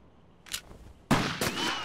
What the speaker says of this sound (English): Why did you shoot his gun and not him?